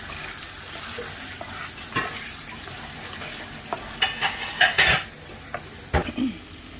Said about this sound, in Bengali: মশলাগুলোর সাথে নেড়েচেড়ে একটু ভালো করে কষিয়ে নিব